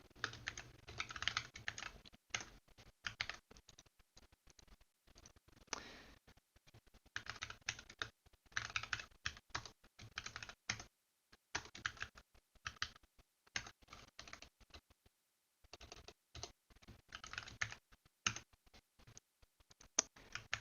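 Close, quiet typing on a computer keyboard while writing C++ code, with rapid bursts of key clicks broken by short pauses; no talking.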